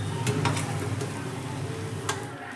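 Chicken frying in butter and garlic gives a steady close sizzle with faint stirring clicks, constant and even for the whole stretch.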